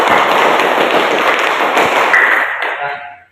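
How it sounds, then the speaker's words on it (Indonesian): A classroom audience applauds together, a dense, steady burst of many hands clapping close by, holding strong for over two seconds before thinning out and fading. "Tepuk tangan untuk kita semua"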